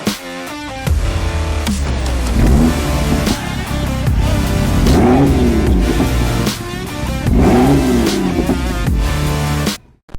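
A BMW M2 F87 with its 3-litre turbocharged N55 straight-six is revved hard, its loud, close engine note climbing and falling through several sweeping pulls before cutting off abruptly.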